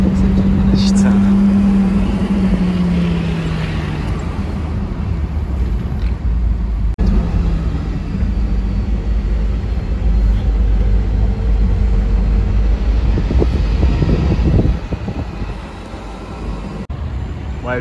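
A Porsche Carrera GT sports car with its rear wing raised and roof off passes on a Paris street, its engine tone fading away amid street traffic noise while people talk over it.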